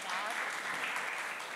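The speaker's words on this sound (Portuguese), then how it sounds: "Uma salva de palmas para o meu primeiro convidado." Steady applause from a seminar audience in an auditorium, greeting a guest called to the stage; dense, even clapping fills the whole moment without pause.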